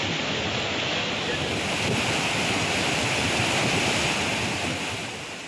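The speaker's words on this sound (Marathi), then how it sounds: "पेढी नदीला मोठा पूर आलेला आहे" Floodwater rushes in a swollen river after heavy rain, a loud, continuous broadband roar with no breaks, close and dense, partly buffeted by wind, with no voices.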